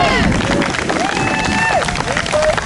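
A crowd at an anti-racism rally in Barrington claps steadily, with whoops and cheers rising over a dense murmur of voices, loud and close.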